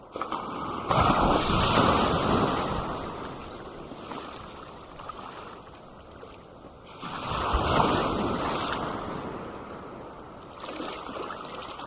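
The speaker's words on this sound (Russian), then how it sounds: "И дальше вот большая волна идет, и надо то ли туда заходить, то ли здесь купаться" Shallow sea waves break and wash along Varadero beach, two broad swells of surf rising and fading over steady wind noise on the microphone, with no talking.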